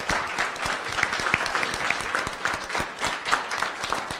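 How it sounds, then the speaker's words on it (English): Steady applause at a school board of education meeting honoring adult volunteers, many hands clapping at moderate volume with distinct individual claps popping out of the crowd. "If we could give them a round of applause."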